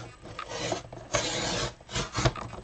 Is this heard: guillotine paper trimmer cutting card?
yes